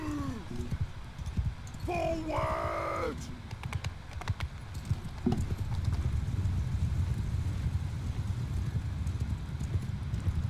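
Cavalry horses in Mount and Blade II Bannerlord move in a dense patter of hooves that runs throughout, joined early by a couple of whinnies. A voice talks over the hooves.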